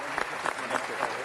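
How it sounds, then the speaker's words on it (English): Brief, steady applause rises from the crowd at a city council meeting, with dense clapping filling the short moment. "Another round of applause for his great service to his country and to our city and his family"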